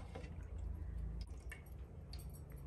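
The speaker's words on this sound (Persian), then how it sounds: "فقط اما قدر که رایس پیپر دم زیر آب میبریم و دوباره پس میکشیم" A thin sheet of rice paper is dipped briefly into water in a home kitchen, giving soft wet drips and a faint squish over a steady low background hum.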